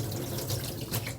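Tap water runs steadily into a sink while raw oysters are rinsed, a close, continuous splashing flow with no voices.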